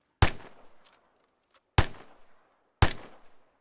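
Three single gunshots from a rifle in Arma III, each a sharp loud crack trailing into a short decaying echo, spaced about one and a half seconds apart with faint clicks between.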